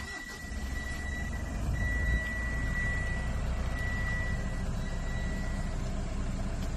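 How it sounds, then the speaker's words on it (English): A 2020 Mitsubishi Triton VRX pickup engine starts by push button and settles into a steady low idle, with a faint high chime tone running over the rumble. "just put your foot on the brake and hit the start stop engine button to go"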